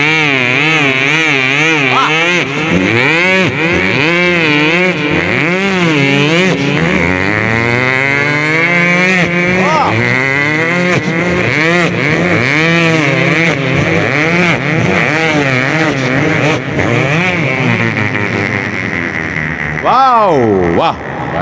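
A voice imitates a motorbike circling a well of death, a continuous engine drone with rising and falling revving sweeps for about twenty seconds, loud and close.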